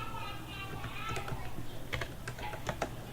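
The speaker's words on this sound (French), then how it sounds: "Et là, on va taper la commande" Rapid keystrokes clack on a computer keyboard as a network command is entered, a quiet run of irregular taps over low room hum.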